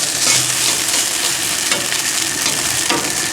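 Vegetables for a chicken stir fry sizzle loudly on an outdoor grill top, a dense continuous hiss with scraping and spreading touches, close and alone without talk.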